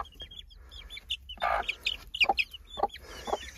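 A hen clucks near her chicks on a poultry farm, a series of close, distinct clucks and short calls in a rhythmic run, with faint chirps and low farmyard background noise.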